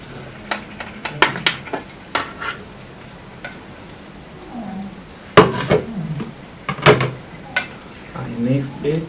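Boiled, peeled potatoes stirred into boiled yellow split peas in a pan for a spicy Somali stew, giving scattered scraping knocks and soft sizzling clatter at close range.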